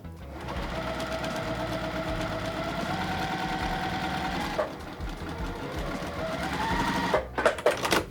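A sewing machine runs steadily, joining quilt strips, in a close, even motor hum that pauses briefly midway, then resumes before ending in a few sharp clicks and rustles.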